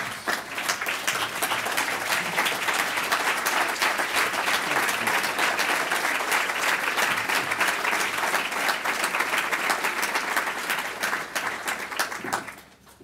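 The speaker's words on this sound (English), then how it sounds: "join me in giving Ambassador Zhong Jianhua a welcome home round of applause" A lecture audience at the African Presidential Center gives Ambassador Zhong Jianhua a welcome-home round of applause, a long, full, crisp ovation of many hands that holds strong and then tapers off at the end.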